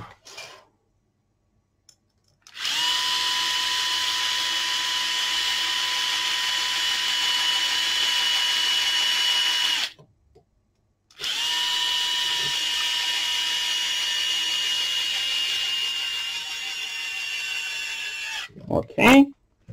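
A small power screwdriver drives screws into connectors on an MSM Titanic model kit in two long steady whirring bursts separated by a short pause, close and clear, with a brief clatter at the end.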